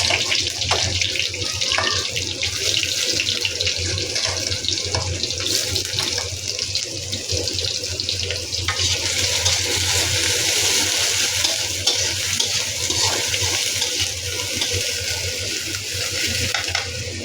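Chopped onion fries in a little oil in a kadai, making a continuous close sizzle with occasional stirring and scraping. There is no talk over it.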